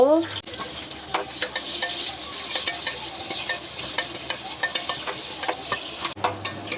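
Onions frying in oil for a beef and potato curry, a steady close sizzle broken by repeated rhythmic stirring taps and scrapes against the pan throughout.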